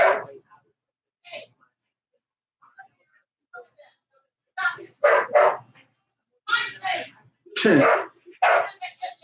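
Pet dogs bark in bursts at deer in the yard, several sharp barks and yips clustered unevenly, some loud and near, with quieter gaps and a few softer whimpers between.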